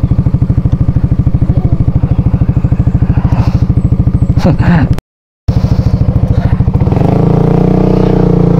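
A motorcycle labors along a rough, deep road toward waterfalls, its engine pulsing in a fast steady beat close by, with a brief dropout and then louder revving and clatter near the end.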